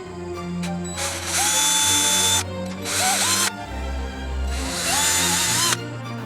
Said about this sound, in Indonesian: Lakukan pengeboran terlebih dahulu pada posisi puli masing-masing.